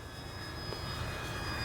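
A Kavan Pilatus PC-6 Porter RC model plane flies overhead, its steady engine drone continuous and moderately loud with faint high whine tones throughout.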